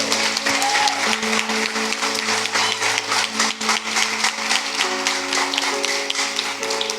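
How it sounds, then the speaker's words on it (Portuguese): A church congregation at a pastors' anniversary celebration claps steadily for the volunteers, sharp dense handclaps throughout over a sustained keyboard chord. "eu queria que todos vocês aplaudissem a Deus pela vida de todos os voluntariados da igreja"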